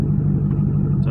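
A 2006 Corvette Z06 with a Lingenfelter 2-step idles steadily up close, a loud, deep, even engine rumble that holds for about a second with no talk over it.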